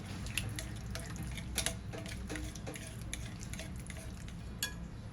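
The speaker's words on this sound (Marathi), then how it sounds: "दही आपण फेटून घेऊया." Curd (yogurt) being whisked in a bowl makes a quick run of soft clicks and taps against the bowl over a low background hum, close and quiet, with nobody talking.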